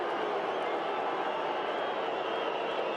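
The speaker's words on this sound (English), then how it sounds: "Crowd roaring, trying to put him off." Dense, steady roar of a big football crowd at an AFL match between Carlton and Fremantle, continuous and loud throughout with no breaks.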